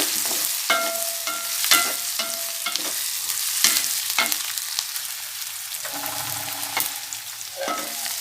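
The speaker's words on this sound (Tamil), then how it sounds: "வெங்காயம் ஓரளவு வதங்கிடுச்சு நம்ம தக்காளியும் போட்டுடலாம்" Onions sizzle as they sauté in a pan for an elephant foot yam side dish, with tomatoes about to be added. Loud, continuous frying is broken by repeated scraping stirs of a spoon against the pan.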